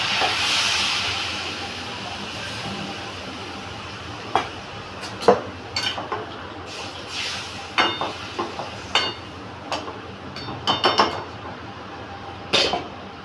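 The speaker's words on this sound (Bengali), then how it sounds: "এবার একটু জল দেবো" Water poured into a hot pan of pumpkin stems bursts into a loud steamy hiss that slowly fades, followed by scattered clanks and scrapes of a utensil against the pan.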